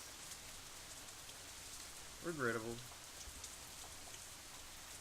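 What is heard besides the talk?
rain falling, from visual novel Katawa Shoujo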